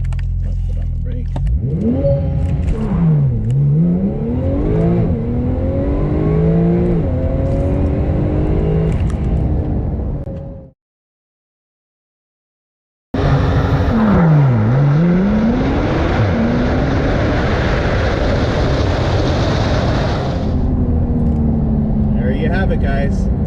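A Porsche 911 Turbo S accelerates hard with launch control, its engine climbing through the gears in rising sweeps. The sound cuts out for a moment, then another strong pull follows, loud and close.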